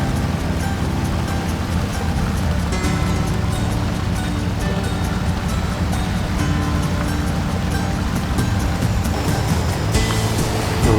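A truck churning through river water in the Mudrunner off-road game, a steady rushing splash and engine drone holding constant and loud throughout.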